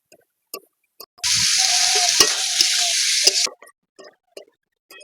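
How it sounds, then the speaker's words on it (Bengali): Boiled elephant foot yam stirred into fried masala in a pan: a loud burst of sizzling frying lasting about two seconds with scraping of a spatula, framed by sparse clinks and taps before and after. "ওলটা দিয়ে একটু নেড়ে চেড়ে নেব।"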